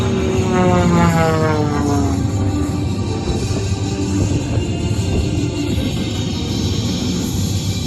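Aerobatic propeller airplane performing at the Westfield Barnes ANGB airshow, its engine loud and steady, with a droning tone that bends downward early on as it passes, then a sustained roar.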